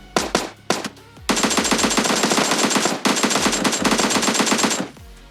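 Gunfire in PUBG Mobile Lite while shooting a bot: a couple of single shots, then sustained rapid automatic bursts, loud and close, with a brief pause between two long strings of fire.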